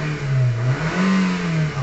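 A 2008 Kia Rio engine, just started after a no-start fault with a blinking check engine light, revs up and eases back in a steady near loud drone with a fluctuating pitch.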